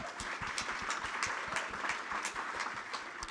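A security forum audience gives faint, distant applause, a thin wash of scattered claps lasting a few seconds.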